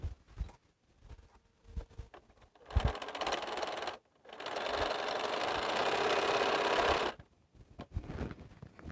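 A Featherweight sewing machine stitches quilt pieces for Cleopatra's Fan blocks, giving a short whirring burst and then a sustained run of about three seconds. Quiet handling sounds and small knocks of fabric fill the gaps before and after.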